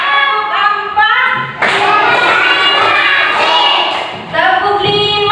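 Class of children clapping hands together in a classroom clapping game, with a loud burst of group claps in the middle among high children's voices.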